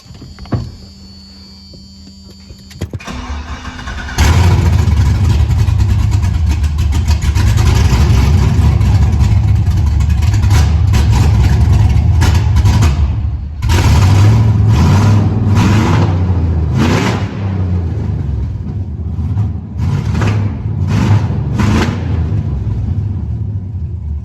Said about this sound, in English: as you can see, it's revving and it's going in reverse like it should be